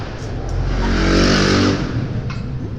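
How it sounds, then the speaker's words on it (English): A loud motorbike roars past outdoors, its engine noise swelling to a peak and fading away over a few seconds, heard from indoors during a Pilates reformer session. "That was a loud motorbike going past."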